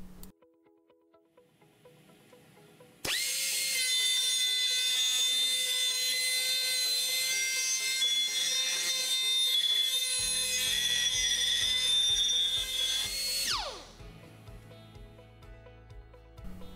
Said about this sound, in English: so now we can deburr the part